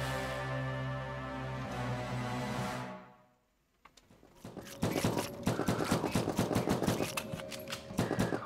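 Rapid machine gun fire in the sci-fi shooter game From Space: a fading low drone gives way to a brief near-silence, then dense, sustained bursts of automatic shots ring out loud and continuous.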